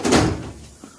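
A workshop drawer holding a heat gun is pulled open with a short sliding rumble and knock close by, followed by a quieter tail and a small clunk.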